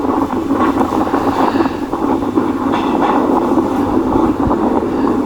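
A train runs on its way into Vaniyambalam railway station, heard from on board as a loud, steady rumble and rattle of the carriages with faint clicks, and no voices.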